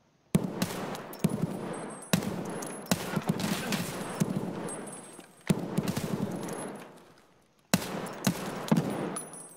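Bursts of gunfire in Escape from Tarkov, several sustained volleys of rapid shots with sharp onsets and brief silent gaps between them, fairly loud and close, with little talk.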